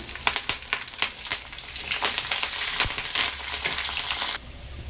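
Curry leaves dropped into hot oil for a curd curry, crackling and spitting in a dense sizzle with sharp pops at first, then a steady loud fry that cuts off abruptly near the end.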